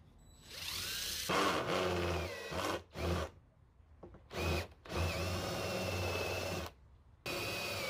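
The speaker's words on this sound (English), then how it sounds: "So first I drill my pallet hole, and then the countersink" A power drill bores a pilot hole during a 2019 Mercedes Sprinter 4x4 van build with aluminum framing, whining loudly in several long bursts broken by brief silent pauses.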